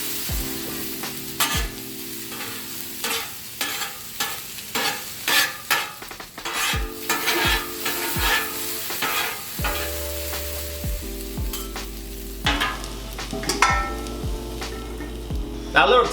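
Diced potatoes sizzle on a 36-inch Blackstone griddle while a metal spatula scrapes and taps repeatedly to flip them, sharp close clacks over a continuous frying hiss.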